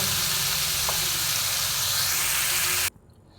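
Prawns for a green-tomato chingri jhal frying in a pan, a loud continuous close sizzle and hiss that stops suddenly, leaving a faint quiet tail.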